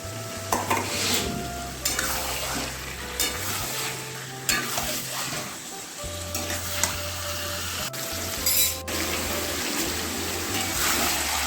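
A spoon stirring papaya and mutton curry as it fries in a pan, with continuous sizzling under repeated scraping and clanking strokes and a steady low hum in the background.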